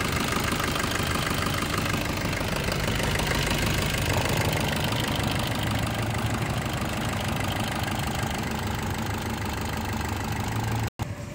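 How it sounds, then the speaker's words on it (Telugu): A 2017 Maruti Swift Dzire ZDi Plus diesel car idles steadily close by with an even, clattering drone that continues unbroken until a brief cut near the end. "ఒకసారి మీకు స్టార్ట్ చేసి చూస్తే, బండి స్టార్టింగ్లో ఉన్నది చూసుకోవచ్చు."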